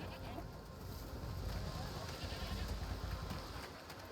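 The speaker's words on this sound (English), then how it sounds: "what's over there? Goats!" Goats bleat in a village market scene in A Plague Tale: Requiem, quiet and somewhat distant under a busy ambient bed with talk and hoof-like clatter.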